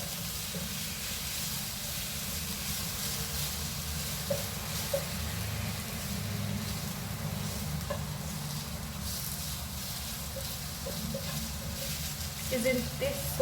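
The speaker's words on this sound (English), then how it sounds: "you mix them together and ensure that every piece of potato is well coated with" Potatoes sauté in a pan while being tossed with onion and dhania, giving a steady soft hiss and sizzle throughout with faint scraping clicks, fairly quiet.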